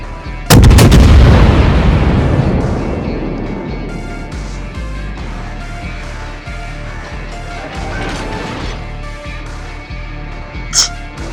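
Naval guns fire in the World of Warships video game: a heavy, booming salvo blasts at the start and rumbles away, followed by quieter repeated thuds and a sharp crack near the end.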